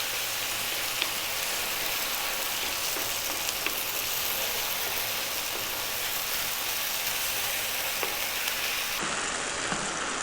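Blue cheese, cream and sausage cook together over high heat, making a dense, loud, continuous sizzle and bubbling with faint stirring clicks, steady throughout and free of talk.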